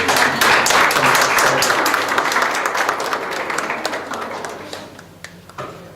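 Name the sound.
audience applause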